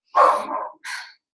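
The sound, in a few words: dog barking in the background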